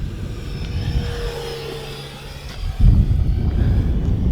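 A small 50mm ducted-fan RC jet, an Arrows T-33, rushes past with a whistling hiss, its roar swelling suddenly louder partway through and holding steady.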